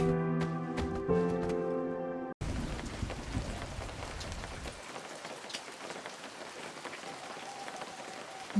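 Steady rain hisses down in a Garry's Mod movie scene, starting abruptly after a few seconds of tonal music and continuing as a dense, even wash of drops.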